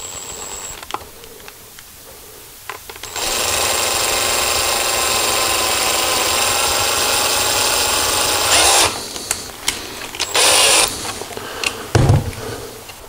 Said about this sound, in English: now that we have our holes drilled